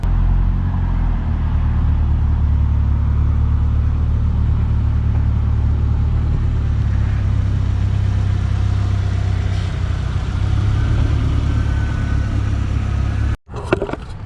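A car's engine runs steadily on a dynamometer during a dyno session, a loud, constant low rumble held at idle for about thirteen seconds before cutting off abruptly near the end.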